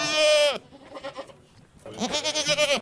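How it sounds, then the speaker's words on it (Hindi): Goats bleat loudly nearby, one long wavering cry, then softer muffled calls, then another drawn-out, quavering bleat, with no talking. "तुझे कितनी बार बोला है बकरियों को बांध कर रखा कर"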